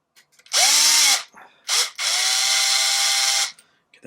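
A power drill whirs in three bursts, a short spin, a brief blip, then a longer steady run before stopping, during a Traxxas 3.3 nitro engine rebuild.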